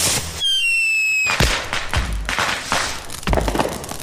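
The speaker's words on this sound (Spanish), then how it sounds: "Los fuegos artificiales son hermosos." Fireworks go off at a celebration after a countdown: a rising whistle and then several loud booming bursts, crackles and thuds in an uneven sequence.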